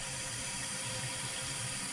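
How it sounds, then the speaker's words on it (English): Water sprays hard from a toilet fill valve into the tank, a steady hissing rush that runs evenly throughout, close and fairly quiet, with no voices. "Now you see how the water is spraying into here?"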